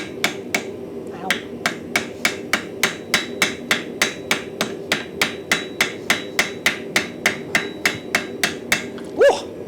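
Rapid, steady hammer blows ring out on hot welded steel being forged into a Finnish-style axe, some thirty close, loud metallic strikes in even rhythm, ending with a brief sharp squeal.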